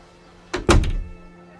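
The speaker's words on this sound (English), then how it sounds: "And the woman closed the door." A door swung shut indoors, landing as a single solid thunk with a short rattle before quiet returns.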